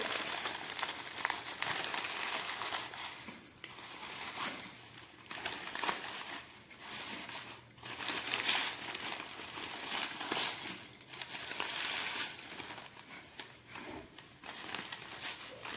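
A plastic packet of fried vermicelli crinkles and rustles continuously as it is handled, close and fairly quiet, with bursts of louder crumpling throughout and no speech.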